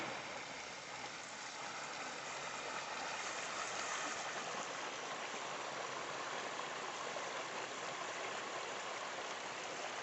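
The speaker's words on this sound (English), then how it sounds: "Listen to that running water." Clear, cold mountain stream running at a campsite in Red River, New Mexico, producing a continuous, close, even rush of water with no pauses and no voices.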